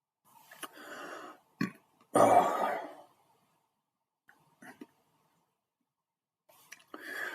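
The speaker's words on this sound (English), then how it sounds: "got the burps" A man's burps from having drunk orange and pineapple squash, a few short soft bursts separated by silence, close to the microphone in a quiet room at night.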